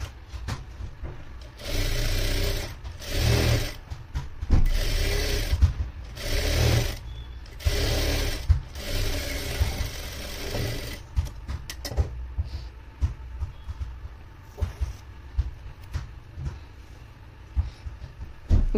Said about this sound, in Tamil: எப்பயுமே டபுள் ஸ்டிச் போட்டுக்கோங்க.